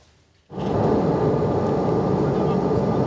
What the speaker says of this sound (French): On est dans un petit avion de la Britair en destination de Birmingham